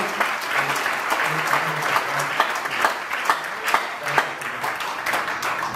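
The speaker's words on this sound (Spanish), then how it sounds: "Un aplauso más al Señor en esta tarde." A church congregation applauds steadily, a dense wash of clapping from many hands in a large room, with a few louder claps standing out.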